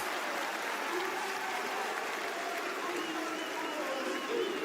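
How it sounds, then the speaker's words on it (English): An esports crowd at a Fortress match roars and applauds continuously, a dense, loud wash of cheering and clapping with no break. "And the crowd will roar for the Frenchman."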